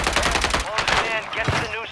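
Shotgun blasts ring out during a Call of Duty: Warzone Resurgence match on the Urzikstan map. Rapid, punchy reports are packed into two seconds, mixed with game noise and a voice talking.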